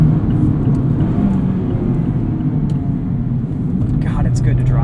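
A 2020 Mazda MX-5 Miata Club manual convertible drives along with a steady engine drone and road rumble, loud and close throughout, a little wind noise and a voice talking over it.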